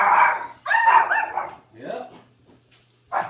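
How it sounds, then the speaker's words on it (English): Puppies indoors letting out a series of high yips and barks in short bursts, close and fairly loud, separated by brief pauses. "Puppies in the house."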